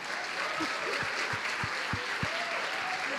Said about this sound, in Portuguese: Vamos aplaudir os irmãos aqui, gente.